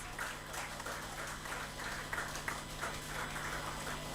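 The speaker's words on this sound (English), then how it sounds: "Please give a loud round of applause for this many years" A faint round of applause at a company anniversary cake-cutting ceremony, even clapping held steady throughout, heard at a distance with no talk over it.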